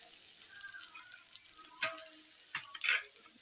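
Rasam soup cooks in a pot, with a soft sizzle and bubbling and a few faint stirring clinks against the vessel. It stays quiet and close, and no voices are heard.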